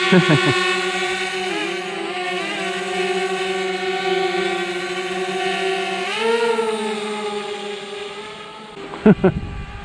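High whining buzz of a small DJI Spark drone's propellers straining against the wind, a steady tonal hum that shifts pitch as it holds position, with a brief burst of wind buffeting near the end.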